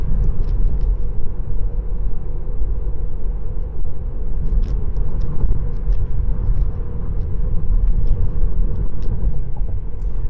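A car accelerates on a ramp to merge onto a highway, with a loud, steady road and engine rumble heard from inside, and no voices.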